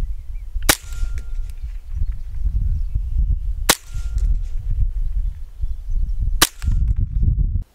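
Three sharp rifle shots from a .22 Savage firing 40 grain bullets at a range, spaced a few seconds apart, loud cracks over steady outdoor wind noise.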